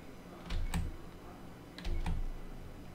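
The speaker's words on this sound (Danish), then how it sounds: "jeg taster koden ind" Two short bursts of clicking keys, a code typed on a computer keyboard during a Battlefield 4 session, sound close and fairly loud against a quiet background.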